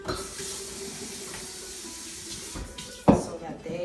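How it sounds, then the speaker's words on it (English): Water trickles and hisses steadily from a tap while eggplant parm is being made in a kitchen, faint and continuous, ending with a short louder splash or clatter. "it's good to put a little bit of water"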